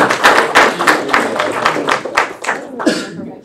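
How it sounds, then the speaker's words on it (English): Scattered applause from a small audience at a student government senate meeting, a handful of hands clapping in uneven bursts that thin out over a few seconds, fairly close and loud. "It's okay to clap."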